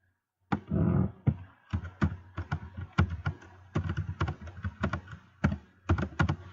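Someone types on a computer keyboard, producing close, crisp key taps in irregular bursts with brief pauses, starting after a short silence.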